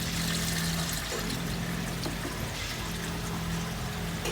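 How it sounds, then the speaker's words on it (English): Engine oil pouring steadily from the drain plug of a modified 2018 Mustang GT at a dealer service, a continuous close splashing stream with constant loudness. "now he's going to drain the oil from the plug there"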